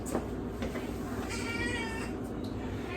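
A cat meows softly a couple of times against a low, steady background hum, the calls faint and brief.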